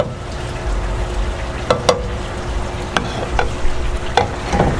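A spoon stirs a pot of brisket chili with black beans, making soft scrapes and light clinks against the pot over a constant low bubbling sizzle.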